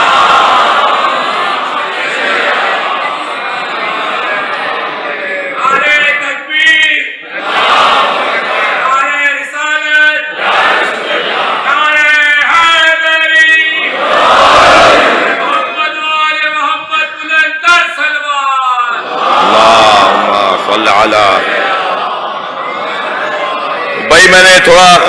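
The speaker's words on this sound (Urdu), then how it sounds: "آج میری خوش قسمتی ہے کہ اس مجلس میں بزرگ نعرے لگا رہے ہیں" Elders at a majlis, a Shia religious gathering, shout religious slogans together in loud, rhythmic bursts that rise and fall over half a minute, mixed with a leading voice calling out.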